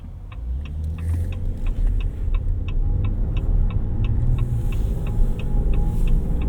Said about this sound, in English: You can kind of hear the tires.